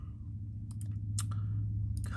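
Computer mouse clicks sound in a few quick, sharp bursts over a steady low hum, with no talking.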